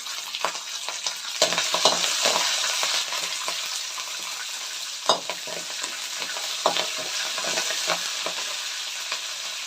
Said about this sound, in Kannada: ಇವಾಗ ಕರಿಬೇವಿನ ಸೊಪ್ಪು ಕೂಡ ಹಾಕಬೇಕು.